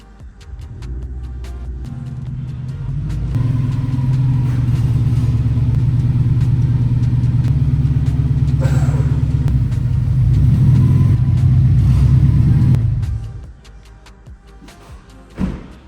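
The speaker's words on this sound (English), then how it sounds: "let's throw a car up on the lift, see how it works" A car engine rumbles and throbs steadily at close range as the car is driven onto a lift in an auto shop, holding a low idle-like drone for about ten seconds before dropping away.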